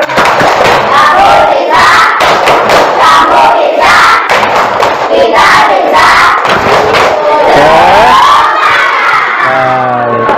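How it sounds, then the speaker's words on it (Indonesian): A classroom of schoolchildren performs a spirit clap together, loud rhythmic clapping bursts mixed with energetic group chanting and shouts, close and continuous, ending in a rising cheer. "Baik, tepuk semangat."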